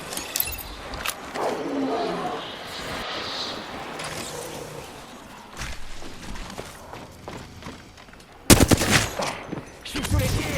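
Video game gunfire in a dense, chaotic mix of bursts and rattling shots, with a loud sharp volley near the end and faint voices underneath.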